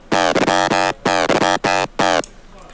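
Electro house FM lead from the Serum synth playing dry, oscillators only with effects switched off: bright, buzzy harmonic-rich notes in short rhythmic bursts, several stabs with gaps between, loud and upfront, no talking.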